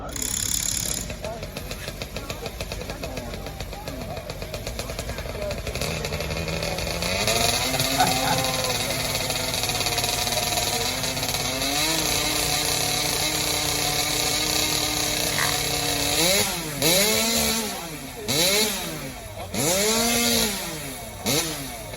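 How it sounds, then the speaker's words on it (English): Several chainsaws rev and warm up at a summer festival competition on North Island, engines rising and falling in repeated throttle bursts near and loud, with people talking over the din. "you guys want to warm those saws up? Go ahead and warm them up."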